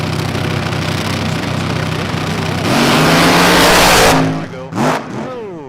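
A race car driving on a racetrack during a memorial race, its engine roaring loudly and steadily, swelling as it passes close, then dropping away with a falling pitch sweep at the end.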